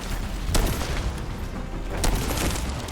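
Shotgun fire in the video game The First Descendant, two sharp blasts about a second and a half apart over a dense, noisy game background.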